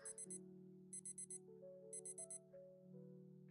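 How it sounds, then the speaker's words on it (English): A phone alarm goes off in a college-life video game, repeated bursts of rapid electronic beeps in groups of four over a soft synth music background, quiet. "I jump as the alarm on my phone goes off."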